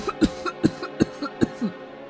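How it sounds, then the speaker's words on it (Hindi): A woman in a Hindi cartoon story coughs loudly and repeatedly, giving about six sharp, evenly spaced bursts that end in a strained, throat-clearing cough. "जोर से खांस रही थी।"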